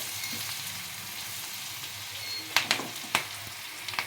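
Chilli bhetki fish frying in a pan with chilli powder, a steady soft sizzle close by, broken near the end by a few sharp clinks and scrapes as the pieces are stirred.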